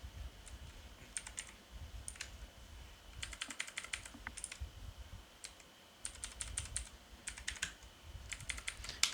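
Someone types a Linux command on a computer keyboard in quick bursts of light clicking keystrokes separated by short pauses. The typing is fairly quiet, with no speech.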